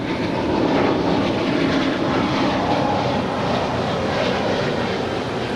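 A Spirit Airlines Airbus A320neo departing LAX for Dallas-Fort Worth: a strong, steady jet-engine roar, close and loud, holding an even level through the clip.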